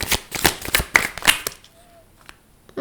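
Tarot cards being shuffled up close, a series of quick riffling slaps for about a second and a half before fading to near quiet.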